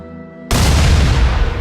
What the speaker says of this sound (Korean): 손에서 떨어진 수류탄이 적의 참호 안에서 폭발했습니다.